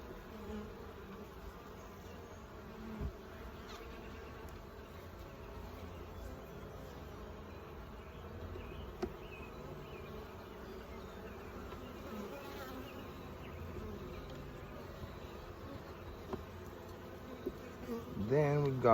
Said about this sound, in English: Now I am gonna feed these bees too, because mostly it's mostly nurse bees.